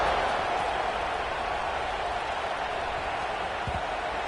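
A stadium crowd at a football video game gives a constant, loud roar with a broad wash of cheering and no clear breaks.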